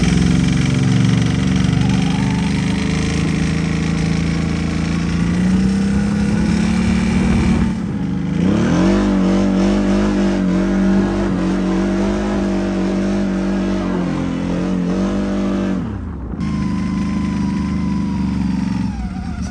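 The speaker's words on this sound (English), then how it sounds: "I'm gonna take it out for a quick little test ride and see how it does." A CFMoto CForce 1000 ATV with a Stage 3 trail clutch kit drones loudly on a test ride, its engine pitch rising and falling as it accelerates, with a brief dip in between, close and continuous.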